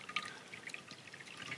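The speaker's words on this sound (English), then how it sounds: "I'm just going to add some water to the pan" Water pours and trickles into a cast iron skillet at a campsite, giving a faint, steady splash with small drips throughout.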